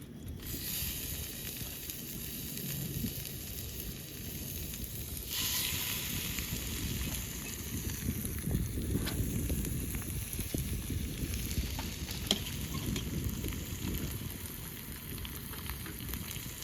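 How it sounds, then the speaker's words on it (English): Salmon fillet frying in seasoned oil in a pan at a van campsite, a steady broadband sizzle and crackle running continuously throughout, fairly close with no talking. "And now I will put my salmon in there."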